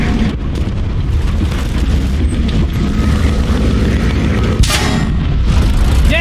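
A tank cannon fires in War Thunder from a Pz.Bef.Wg.IV J. A dense, loud rumble of battle noise runs throughout, and a sharp blast stands out near the middle.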